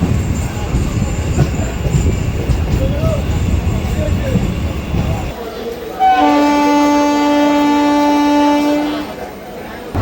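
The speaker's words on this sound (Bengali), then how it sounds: "মাঝদিয়া থেকে আমাদের ট্রেন ছেড়ে দিল" A local train pulls out of Majhdia railway station on the Ranaghat–Gede line, its rumble giving way to a loud, sustained horn blast, with voices heard near the start.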